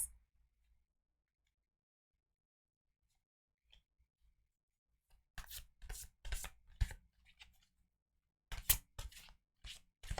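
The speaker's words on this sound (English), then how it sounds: "That concludes the shuffling process." Oracle cards are shuffled, quiet papery riffles and taps in short bursts after a long near-silent stretch, close to the listener and faint overall.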